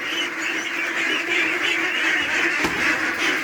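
A group of ducklings gives continuous overlapping quacks and peeps, close and loud, forming a dense chorus with a brief knock near the end.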